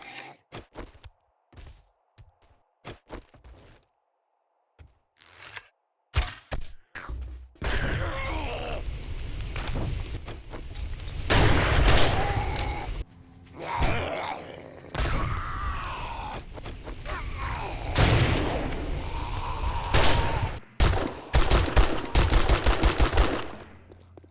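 Rapid bursts of gunfire from the 7 Days To Die video game pour into a feral soldier zombie. Sharp isolated shots come first, then sustained loud automatic fire with groans mixed in.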